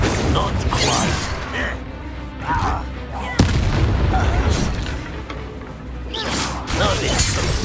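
Bombarda blasting spells in Hogwarts Legacy go off as heavy booms, with one sharp, loud crack midway through and rumbling impacts around it, while voices talk over the combat.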